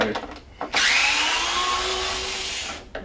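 A power tool, likely a drill or electric screwdriver, backs screws out of a VF Commodore headlight's inner bezel, whining loudly and steadily for about two seconds close up after brief handling noises.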